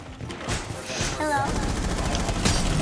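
Enemy automatic gunfire rattles in sustained bursts during a Rainbow Six Siege round, loud and close, mixed with game effects and a brief voice.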